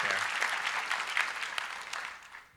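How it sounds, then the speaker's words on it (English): An audience at the AAAI 2019 debate on the future of AI breaks into steady applause, a dense wash of clapping that carries on evenly and fades slightly at the end. "let's clap for everybody"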